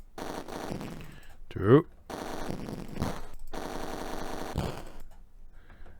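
Rapid shooting at targets in the Atari ST rail shooter Roller Coaster Rumbler, a short burst of gunfire standing out amid steady game music and effects, with a brief spoken word nearby.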